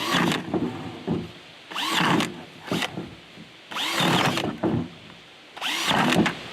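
A power drill bites into a bait container of rotten meat at a bear hunting camp in Quebec, running in several short bursts separated by pauses, close and fairly loud.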